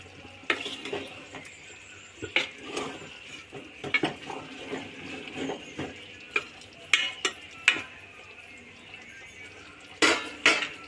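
Chicken being stirred with a tablespoon of chicken masala in a pot for a village-style curry, with repeated sharp spoon scrapes and clanks against the metal over a soft sizzle, no talk.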